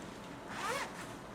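A zipper on a sewn garment is pulled once in a quick rasping run, close and fairly loud against quiet room tone.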